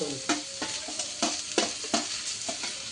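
Tomato, ginger and garlic roast in a pan for a chicken sukka masala. A soft sizzle runs under regular scraping stirs, about eight strokes in quick rhythm.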